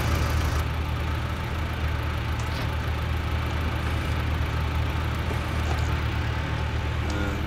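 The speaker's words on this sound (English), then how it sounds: "We should stop that tractor there." Tractor engine in the farming video game Farming Simulator 19, a continuous low, rumbling drone that holds steady throughout with no talking.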